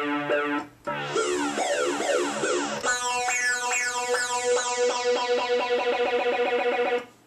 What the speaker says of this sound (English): if we set up the LFO to a sawtooth waveform and increase the amount, we can get a repetitive pattern